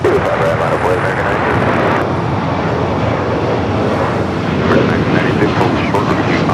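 Hawaiian Airbus A321neo jet at LAX, a loud, steady broadband engine roar that fills the whole stretch without letting up.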